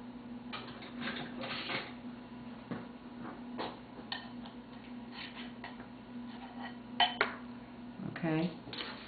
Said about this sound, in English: So now I'm going to take a different knife. I'm going to scoop that out of there.